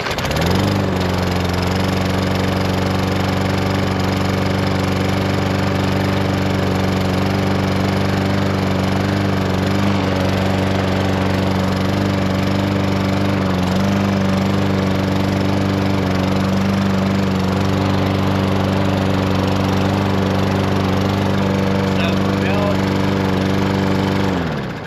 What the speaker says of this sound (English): Brought the push mower outside to see if it'll fire up.